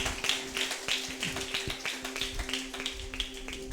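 A church congregation claps in a steady, even rhythm during a Hindi Christian worship service, roughly two claps per second, moderately loud over a sustained tonal hum.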